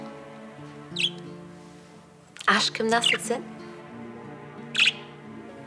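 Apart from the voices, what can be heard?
pet budgerigars chirping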